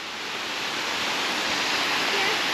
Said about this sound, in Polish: Tam jest wodospad.